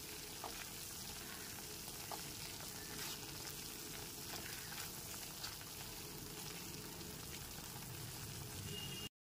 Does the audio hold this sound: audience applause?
no